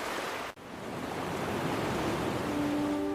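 Ocean waves wash onto Sinquerim Beach in Goa, a loud, steady broadband roar of surf with one brief dip near the start and faint tonal hum toward the end.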